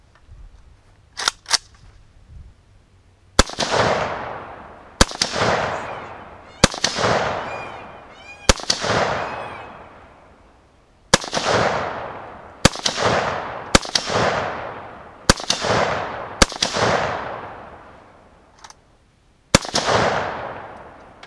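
A Romanian rifle fires TulAmmo .223 rounds downrange at an outdoor range, about ten loud, sharp shots at uneven intervals, each followed by a long echoing decay, after a few faint clicks at the start.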